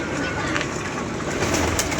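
Pigeons coo in a dense, continuous low murmur, several birds at once and fairly close, with some faint background noise mixed in.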